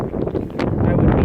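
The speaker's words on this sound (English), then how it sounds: "the winds are freaking picking up." Gusty wind sweeps across a hay field, a broad rushing roar buffeting close to the microphone with no pause through the short stretch.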